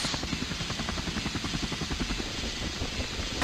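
A helicopter flies in a video game, its rotor chopping in a steady, fast rhythm that stays loud and close for the whole stretch, with no talk over it.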